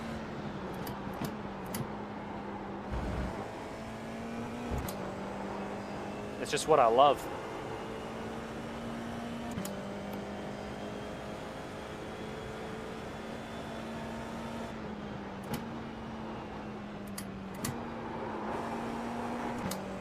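Formula car engine in the iRacing sim racing game, a steady mid-pitched drone that shifts with gear changes and a few brief clicks, running under a voice for much of the stretch.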